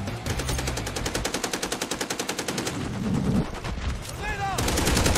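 Rapid automatic gunfire from Call of Duty MW3 on the Rust map crackles in a steady stream for about three seconds, followed by further shots and game effects. Everything stays loud and dense throughout, with game voices mixed in underneath.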